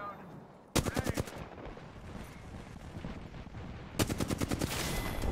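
Rapid bursts of automatic gunfire in the Apex Legends video game, two loud close volleys of quick repeated shots separated by a steady rumbling background.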